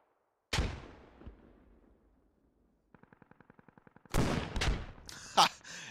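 RPG rockets fired at an MRAP in a tactical military shooter game: a loud launch blast trailing off, a quick burst of rapid gunfire, then heavy explosive impacts.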